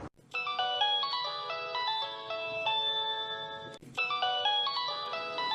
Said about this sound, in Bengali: কিরে তোর ফোন বাজতেছে